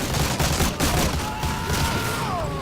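A soldier's gun fires short controlled bursts in the World War II shooter Medal of Honor Allied Assault. Dense, rapid shots come in clusters with brief gaps, loud and close, and little talk.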